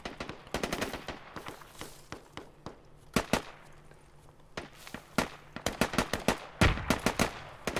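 Gunfire in the military shooter Squad: rapid bursts and single cracking shots at varying distances, some sharp and close, others distant, coming in irregular clusters with a steady background rumble.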